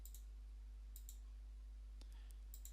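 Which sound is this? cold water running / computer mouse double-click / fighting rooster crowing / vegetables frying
computer mouse double-click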